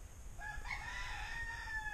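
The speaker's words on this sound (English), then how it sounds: "And that's our rooster." A free-roaming rooster near a century-old guest house being reroofed crows once in a drawn-out, bright cock-a-doodle-doo, moderately distant over low outdoor rumble.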